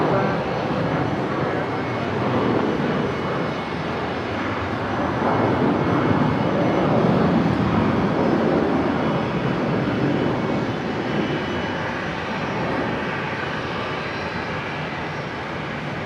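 Virgin Australia airliner taking off from Brisbane bound for Sydney: a sustained jet engine roar rising and easing over several seconds, moderately loud and steady, with voices talking over it at times.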